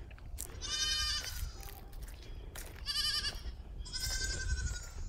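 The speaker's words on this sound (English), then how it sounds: "The goats." Goats on a farm beside a newly built fence, giving three loud, wavering bleats, close by, over a low rumbling background.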